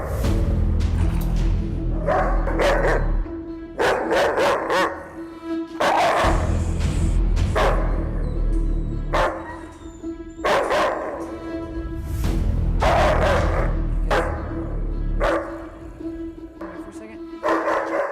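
A fired-up shepherd-type dog in aggressive-behaviour training barks repeatedly in loud, close bursts of two or three, steady across the whole stretch, with a low hum running underneath.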